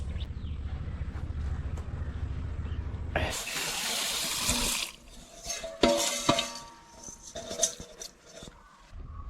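Water gushes from a tap into a vessel of rice with a sudden loud splash, then swirls and sloshes as the rice is stirred by hand for soaking; faint background murmur.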